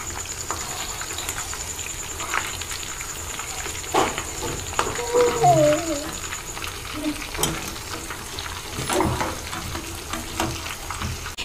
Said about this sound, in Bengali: আমি এইরকম ভাবে উল্টে পাল্টে সবগুলো ভেজে নিচ্ছি ডিমের চপগুলো